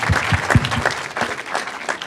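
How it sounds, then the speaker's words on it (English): Audience applause at a public address, a burst of loud, dense clapping from a crowd with sharp close claps at first, continuing steadily at a slightly lower level. "that applause was for her"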